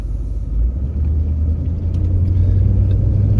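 A 1995 Jeep Grand Cherokee Limited ZJ with about 125,000 miles drives along, a steady low engine rumble and road drone heard from inside the cabin, growing slightly louder, with no speech.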